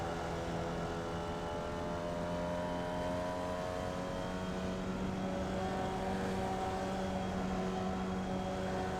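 Formula Vee race car engine in the iRacing sim, a steady droning buzz with layered harmonic whine held at near-constant pitch throughout, loud and continuous with only slight variations in revs.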